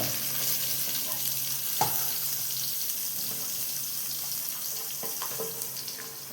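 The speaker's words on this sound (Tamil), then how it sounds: "நம்ம வெட்டி வச்சுருக்க வெங்காயத்தை போடுங்க சரிங்களா வெங்காயத்தை போட்டாச்சா" Chopped onions fry in hot oil in a pan for tea-shop style bonda, giving a steady, fairly loud hiss and sizzle with a few light clinks of stirring and no talk.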